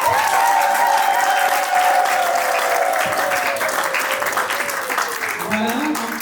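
Guests at a civil wedding ceremony applaud together, a loud, dense burst of clapping that holds steady throughout, with a voice briefly audible over it.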